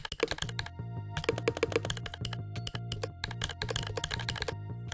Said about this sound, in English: It's gonna make your keyboard sounds sound like 100 times better.